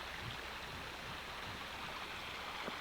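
Steady broadband rush of a river flowing beneath a washed-out bridge in Appalachian West Virginia, where flood debris came down and caught under it; a continuous close, even wash with no voices.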